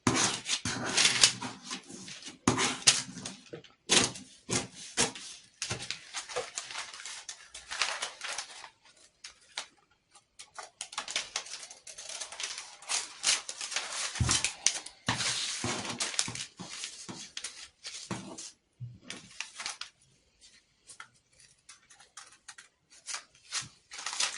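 Scissors cut out a paper blouse pattern during pattern drafting, making close, crisp snipping and rustling paper sounds in bursts with short pauses between them.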